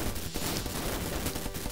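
Rapid shots from a 1988 Data East arcade game, a dense, steady stream of crackling bursts with a few sharper hits, loud and continuous throughout.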